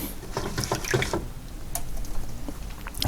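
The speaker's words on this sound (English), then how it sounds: "I'm rinsing off the brush." A paintbrush swished and rinsed in a water jar, quick splashy agitation and clinks of bristles against the container, close and moderately loud, alone with no talking.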